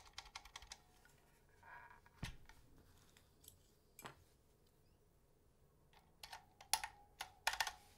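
Scattered keystrokes on a mechanical keyboard fitted with stock Halo True switches and SA-profile signature plastic keycaps, in quiet, irregular bursts, with a few louder clacks near the end.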